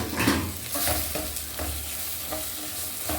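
A spoon scrapes and stirs a thick ground curry paste for Kerala-style rasam in a pan in steady strokes over a soft sizzle, with no voices.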